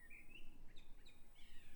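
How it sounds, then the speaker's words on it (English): Garden birds sing in short, bright chirps and whistled phrases over a low, steady background rumble, faint and somewhat distant. "Birds are in fine fettle, fine song."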